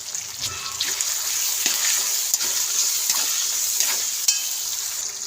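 Tomato, turmeric, salt and masala are stirred into vegetables frying in a pan, giving a steady loud sizzle with intermittent spoon scrapes and taps, heard up close and without speech.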